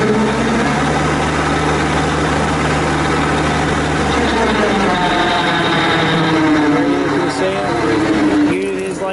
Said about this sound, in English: Go ahead, Matt, we'll fire it up, show you it spins.